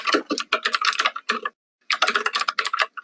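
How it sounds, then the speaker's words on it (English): Loud, rapid keystrokes on a computer keyboard during a Quake 2 capture-the-flag game, clattering in a dense burst, pausing briefly, then resuming in a second flurry close to the microphone. "Who's typing extremely loud?"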